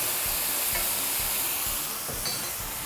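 Chicken wings sizzling in a hot cast iron pan as they are moved around, a loud continuous hiss and crackle with faint scraping shuffles, close up and without talk.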